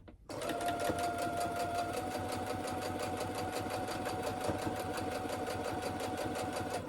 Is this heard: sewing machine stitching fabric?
yes